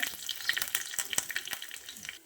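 Mustard seeds and curry leaves spluttering in hot coconut oil for a South Indian tempering, giving a quick run of sharp, close crackles and pops over a steady sizzle, with no talking.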